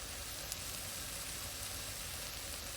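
Onion with ginger and garlic frying in a pan for vada curry gives off a steady, fairly quiet hiss and sizzle that holds evenly throughout, with no voices.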